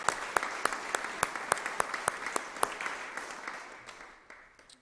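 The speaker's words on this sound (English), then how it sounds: "with a round of applause, let us signal our unanimous vote for these delegates" Members at a church parish meeting give a round of applause, fairly quiet and distant, with sharp individual claps standing out before the sound tapers off.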